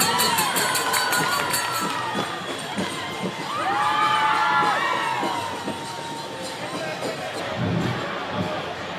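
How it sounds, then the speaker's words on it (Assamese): A crowd cheers and shouts at an outdoor Bihu procession, loud and mixed with children's yells and whoops, with voices rising and falling throughout. "এটি বিপুল হাত চাপৰি জনাবৰ কাৰণে আমি অনুৰোধ জনাইছোঁ"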